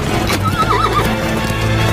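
A horse in an animated story whinnies loudly with a wavering, rising-and-falling neigh, while its hooves clop rhythmically underneath in a close, busy scene with no talking.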